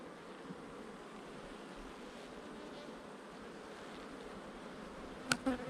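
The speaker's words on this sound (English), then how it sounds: "bees are working away to feed those young" Steady, soft buzzing of many honey bees on a hive frame hums throughout, a dense close drone with a brief sharp click near the end.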